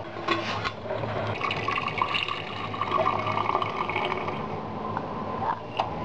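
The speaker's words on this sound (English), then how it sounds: "strain the tea now" Brewed tea flavoured with green cardamom is strained, and liquid pours and trickles steadily for several seconds with small splashes. A few faint clinks and kitchen noises come through now and then.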